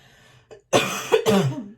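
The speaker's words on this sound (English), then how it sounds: "I took a coughing fit and had to go get a cough drop and some water" A close, loud cough, a few harsh bursts following a short throat sound, with no talking.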